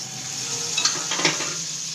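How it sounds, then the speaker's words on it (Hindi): Butter sizzling in a frying pan on a home stove, a steady soft hiss with a couple of light utensil clinks, no voices. "अब हम इसको पैन में थोड़ा सा हम बटर डालेंगे"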